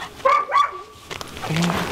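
A small, frightened puppy gives a couple of high yips and barks, close by, with a short whimpering sound between them.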